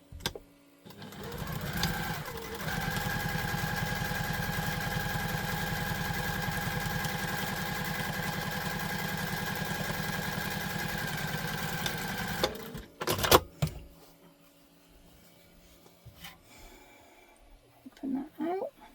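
A sewing machine stitches tote bag seams in one long steady run of about ten seconds, loud and close, then stops. Brief handling clatter and a little movement follow.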